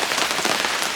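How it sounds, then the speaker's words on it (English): Rain falls steadily outside an RV at a camping resort, a dense, even patter on the surface with no pauses, close and fairly loud. "By the way, it wasn't supposed to rain today."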